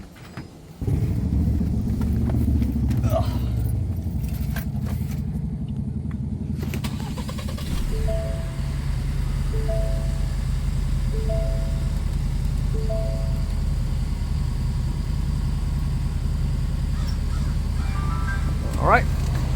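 A 2020-or-later Ford Explorer fresh from an oil change cranks and catches, then settles into a steady low idle, with a series of soft electronic chimes sounding over the engine hum.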